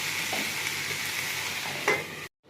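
Okra frying in a pan, stirred so that a steady close sizzle runs under soft scraping, with one sharper clack near the end before sudden silence.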